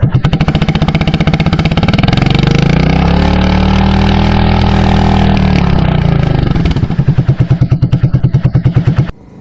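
A very loud aftermarket motorcycle exhaust, close up, revving hard and holding a long roaring surge before dropping back to a fast, lumpy, popping idle that cuts off abruptly.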